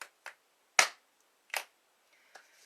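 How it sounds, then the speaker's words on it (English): Hand claps and finger snaps from a person warming up the hands during a stretching and strengthening session: a few separate sharp, dry cracks with gaps between them, close and fairly soft, with no talking. "Want to add some clap snaps just to check in with the hands."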